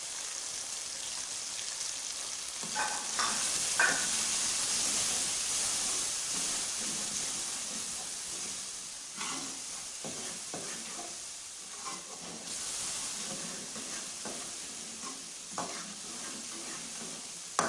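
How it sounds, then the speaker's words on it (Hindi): Tomatoes with salt, black pepper, turmeric and red chilli cook down in a pan for chicken turai, giving a soft steady sizzle and hiss with intermittent stirring scrapes, quiet and without speech. "टमाटरों को गलने तक पकाएंगे।"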